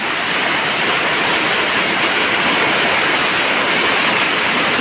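Loud, unbroken downpour at a garden house beside a canal, a thick hiss of heavy rain drumming on surfaces close by, with no voices.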